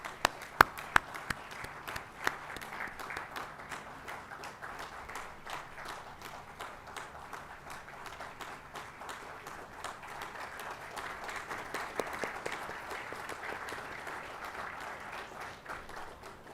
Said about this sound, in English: all of you to give them a warm round of applause